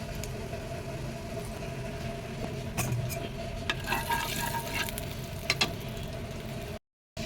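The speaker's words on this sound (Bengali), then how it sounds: "এবার আমি এতে একটু বেশি করে তেল দিয়ে দেবো। এতে আমি সরিষার তেলই ব্যবহার করছি" Mustard oil heats in a kadai over a raised flame, giving a steady low sizzle with a few sharp crackles and pops toward the end, alone, with no voices.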